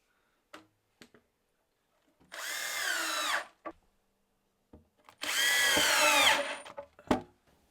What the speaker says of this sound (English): So now I've got to get 2 screws either side driven in through the brackets to lock these in